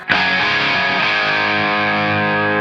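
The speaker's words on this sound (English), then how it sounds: "This one I have a little bit of that reverb on, just for some room sound." A single sustained electric guitar chord rings out through a Revv D20 amp with a reverb wash, decaying slowly.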